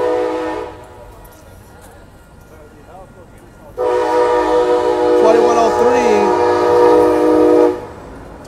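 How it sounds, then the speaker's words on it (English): An Amtrak Capitol Corridor passenger train's horn blasts in a long chord, pauses, then sounds again for several seconds as the train rumbles past nearby on 98th Avenue in Oakland, California, with voices faintly underneath. "Here she comes. The next train coming down 98th Avenue."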